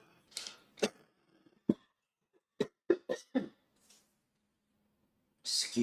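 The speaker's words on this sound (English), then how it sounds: "Bit of a horrible smoker's cough there at the moment." A person lets out a smoker's cough, a series of harsh, raspy barks in uneven bursts close to the microphone, separated by short quiet gaps, followed by a breathy exhale.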